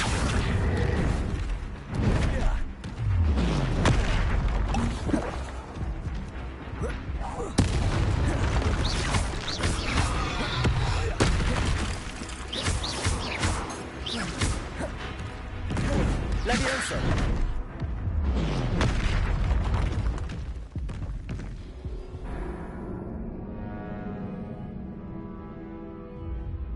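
Spell-casting combat in Hogwarts Legacy, with repeated magical whooshes, booms, crashes and mechanical clanks in dense, loud bursts, over a music bed and occasional game voices.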